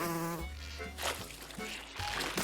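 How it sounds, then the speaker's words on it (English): Cartoon mountain honeybees buzzing in a high, wavering drone, close and fairly loud, interrupted by brief bursts of other cartoon sound effects. "We'll keep climbing until we find some mountain honeybees."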